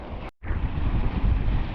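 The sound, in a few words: wind while windsurfing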